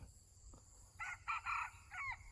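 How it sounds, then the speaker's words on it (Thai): A red junglefowl rooster crows once, a faint, distant broken call in several short segments against quiet outdoor background noise. "เสียงไก่ป่าอยู่ติดเขาเด้อครับ"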